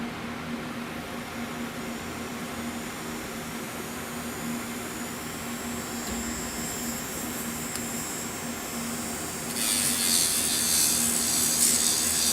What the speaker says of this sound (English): I'm going to take my medium sanding band